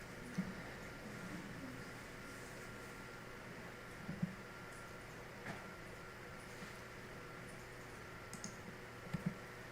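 A few quiet computer mouse clicks, single and in a quick double, sit over a low steady room hum while a file is opened in Dreamweaver.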